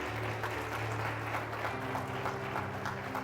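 A church congregation applauding during a Spanish-language sermon: steady, dense clapping throughout, sustained at a moderate distance, with a low droning tone running beneath it.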